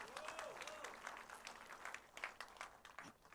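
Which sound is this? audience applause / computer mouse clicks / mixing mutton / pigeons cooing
audience applause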